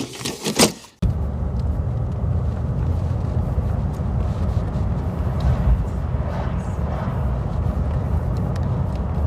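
A Rolls-Royce Silver Cloud III rides along the road with a steady, smooth low rumble of engine and tyres heard from inside the cabin, after a brief louder noise at the start.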